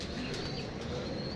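Pigeons on a rooftop, a soft low cooing mixed with faint chirps against steady outdoor background noise.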